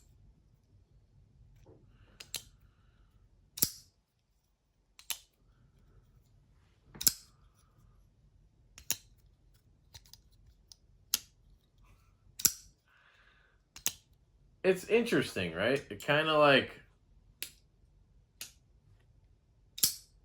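A string of sharp metallic clicks and snaps from a Buck Marksman pocket knife being flicked open, spaced a second or two apart, with a brief stretch of speech partway through.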